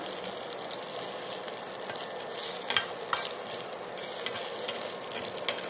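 Chillies frying in a pan for a mashed greens bharta, giving a dense, even crackling sizzle throughout with a few louder pops and stirring scrapes.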